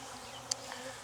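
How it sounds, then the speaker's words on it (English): Honey bees buzz around queen cages in a hive, a faint, low drone of insect wings with a brief sharper buzz passing close by midway. "the bees are crawling on them"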